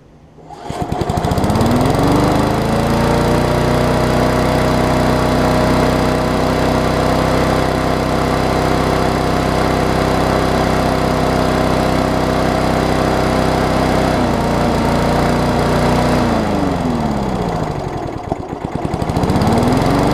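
A repaired Rally push mower that had water in everything runs steadily and loudly for about twenty seconds, a continuous engine drone with a brief dip in pitch near the end.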